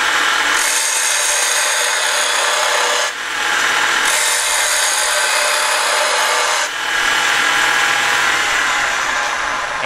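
A gouge on a wood lathe takes heavy peeling cuts from a spinning wooden workpiece, a loud, steady, close hiss and rasp in three long passes with brief dips between them.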